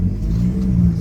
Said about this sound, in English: The exhaust is blowing like a bastard.